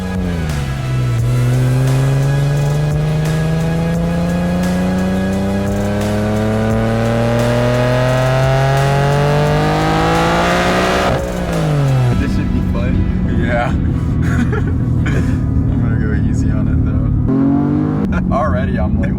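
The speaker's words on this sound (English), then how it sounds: "let's go ahead and take the car for a drive and see how it feels" A big-turbo Infiniti G37 coupe accelerates hard on the road, its engine note climbing steadily through a long rev sweep, then dropping and rising again in shorter pulls, loud and close throughout.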